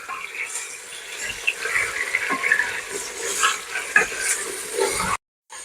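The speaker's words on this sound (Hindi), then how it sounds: "गोश्त हमने डाल दिया है, ऑयल हमारा गरम हो गया था। इसको हम 4 से 5 मिनट तक अच्छी तरह भूनेंगे।" Mutton frying in hot oil, a moderate sizzle with intermittent scraping and stirring clatter, ending abruptly in silence; no one speaks.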